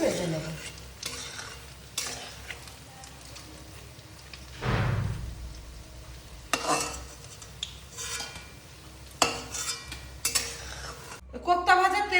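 Paneer koftas fry in hot oil with a steady low sizzle, broken by frequent clinks and scrapes of a spoon and pan as the golden pieces are lifted out; nobody speaks.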